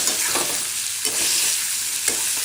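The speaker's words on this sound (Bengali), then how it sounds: "নাড়াচাড়া করছি," Fried moong dal and moringa drumsticks are stirred in a pan with paneer, a loud, close sizzle broken by a few quick scraping strokes of the spoon.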